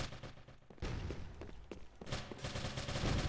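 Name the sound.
gunfire from both teams in the Winter Warzone video game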